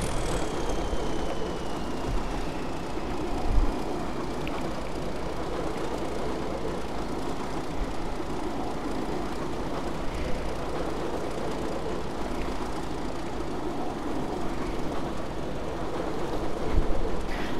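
A steady, broadband rumble of a Class 31 diesel-electric locomotive in a video game running at 90 mph, constant and fairly loud throughout, with a faint high whine drifting downward early on.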